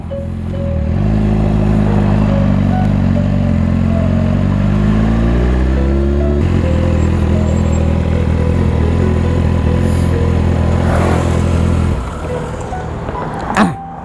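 A BMW S1000RR sportbike engine runs loud and close, its tone climbing through the revs with quick clipped quickshifter gear changes, then easing off toward the end with a short clunk.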